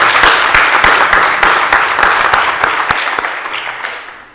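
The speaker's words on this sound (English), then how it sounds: "So please give us a round of applause" Applause from the audience at a panel discussion on South Africa's democracy, with dense clapping that stays loud and steady for about four seconds before beginning to fade at the end.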